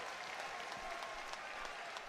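A wrestling arena crowd applauds the wrestlers as they enter the ring, producing a continuous, even patter of many hands that sounds somewhat distant and moderately quiet, with no talking over it.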